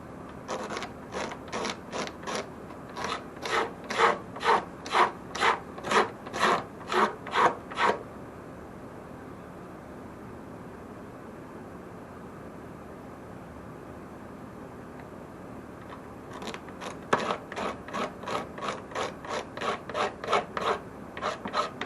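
Old hide glue scraped off the wood of a 1932 Harmony Supertone F32 guitar: close, rhythmic rasping strokes in a steady series, a pause of several seconds, then another fast run of scrapes.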